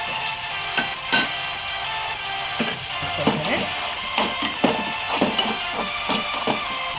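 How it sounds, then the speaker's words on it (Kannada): Cashew pieces and raisins fry in a couple of spoons of ghee with a steady hissing sizzle, while a spoon scrapes and clicks against the pan in a run of short strokes that pick up in the second half; nobody speaks. "2 ಟೀ ಸ್ಪೂನಷ್ಟು ತುಪ್ಪ ಹಾಕ್ಕೊಂಡು ಒಂದು ಸ್ವಲ್ಪ ಗೋಡಂಬಿ ಪೀಸು, ಒಂದು ಸ್ವಲ್ಪ ದ್ರಾಕ್ಷಿ ಹಾಕ್ಬಿಟ್ಟು ಫ್ರೈ ಮಾಡ್ಕೋಬೇಕು"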